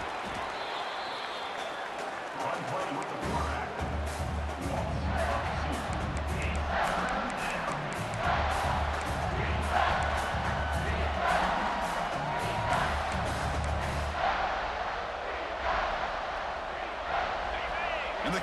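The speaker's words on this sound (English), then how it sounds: "the crowd coming to life here, trying to help this defense down in the red zone" Stadium crowd roaring and cheering in EA Sports College Football 26 as the defense holds in the red zone, a steady broad wash of noise rising and swelling for most of the stretch under a low rumble, with commentary talk over it.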